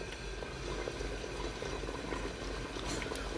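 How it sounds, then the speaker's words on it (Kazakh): Liver-filled pirozhki fry in a pan of hot oil, giving a steady, close bubbling sizzle that holds at an even loudness with no speech. "Енді қызған майға салып қуыратын боламыз."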